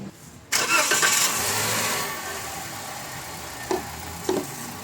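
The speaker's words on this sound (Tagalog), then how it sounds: "tapos pa-start ko na itong makina." A Toyota Avanza engine cranks and catches, then settles into a steady running rumble, with a couple of brief knocks or clanks near the end.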